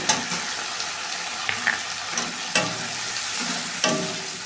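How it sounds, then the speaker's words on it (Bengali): Spice masala with turmeric and salt is stirred and sautéed in a frying pan, a continuous close sizzle broken by repeated scraping clicks of the spoon against the pan, with no voices. "মশলা কিছুক্ষণ কষাতে থাকবো"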